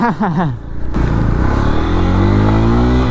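A Bajaj Pulsar N125 motorcycle engine revs up, its pitch climbing steadily into a loud, sustained drone heard up close after a brief voice at the start.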